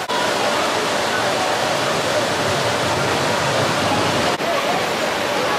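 Water flume ride at Flambards theme park roars with continuous splashing and rushing water, loud and steady, with a brief dip partway through.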